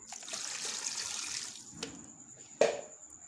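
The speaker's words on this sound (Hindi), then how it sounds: "ये इसके अंदर पानी डालूंगी।" Water splashes and trickles into a pressure cooker holding goat trotters, a soft pouring sound close by that thins out, ending with a couple of sharper splashes.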